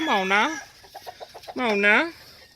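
Two loud, drawn-out squawking clucks from a nearby chicken, separated by a run of short, softer clucks in between.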